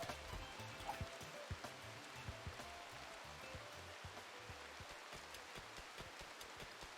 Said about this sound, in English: DJ's out mining in the rain in the dark.